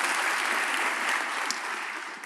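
An audience at a leadership keynote on improvisation claps in a dense, steady burst of applause that holds for about two seconds and tapers slightly at the end.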